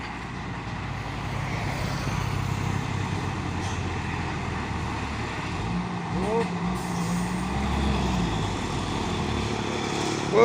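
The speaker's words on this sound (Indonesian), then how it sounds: "trailer Hino 500 membawa kontainer." A Hino 500 trailer truck hauling a shipping container rumbles steadily with a low engine drone throughout, heard amid busy road traffic.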